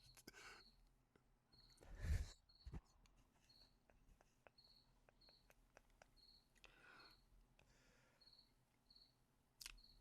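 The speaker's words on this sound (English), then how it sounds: "I hear crickets." Cricket chirping played as a comedy sound effect on a radio show, evenly spaced high chirps repeating throughout, faint and alone apart from a few soft rustles and thumps.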